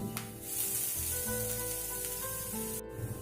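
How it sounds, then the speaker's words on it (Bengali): Garlic paste fries in oil in a pan, sizzling and hissing steadily, a close, continuous crackle with a brief clink near the end. "এক চামচ রসুন বাটা দিয়ে রসুনটিকে আমি ভালো করে ফ্রাই করে নেব"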